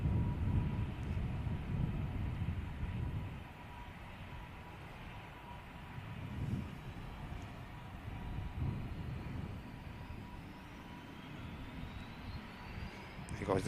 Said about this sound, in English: about to see the Cathay Pacific taxiing over